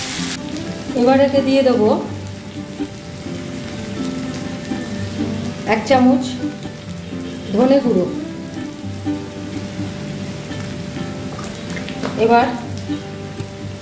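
Potatoes and pumpkin frying in oil for a traditional Bengali dish, a steady soft sizzle running throughout while a person talks over it at intervals.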